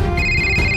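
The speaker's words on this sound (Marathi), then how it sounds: "फोन आला." A phone ringtone sounds loud and steady, a sustained electronic tone with harmonics filling the short stretch alone, in a Marathi TV serial scene.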